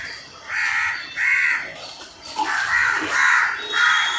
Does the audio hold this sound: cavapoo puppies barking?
no